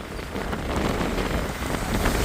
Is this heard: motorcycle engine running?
no